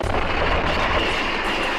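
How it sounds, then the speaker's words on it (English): A dense, continuous roar of deep booming bursts, like muffled explosions rumbling together without pause, loud and close throughout: an underwater recording in Robson Bight of sunken fuel-truck equipment bursting. "It just sounded like explosions."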